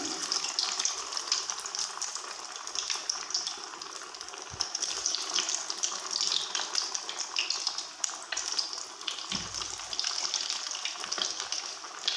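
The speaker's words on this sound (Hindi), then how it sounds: "तीन से 4 मिनट लगेंगे फ्राई होने में" Chicken donuts frying in oil over a low-medium flame, a dense, steady crackling sizzle that holds close and even throughout with no voices.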